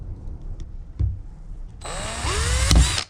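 A few taps and knocks, then a small power drill spins up drilling a circuit board for a guitar pedal, whining with rising pitch, loud and close.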